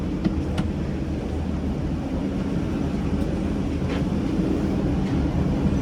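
A Darjeeling ropeway cable car moves along its cable with a continuous low rumble and mechanical hum, steady and fairly close, with faint ticks above.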